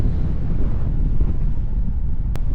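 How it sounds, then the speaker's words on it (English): Steady wind buffets the microphone outdoors at a hang gliding site, a loud continuous low rumble with no pauses and no voices. "There's definitely a little bit of wind"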